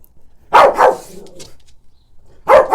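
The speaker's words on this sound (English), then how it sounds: "Now Harry's barking where there aren't any" A dog barks loudly and close by, a quick double bark followed by a whine, then another pair of barks.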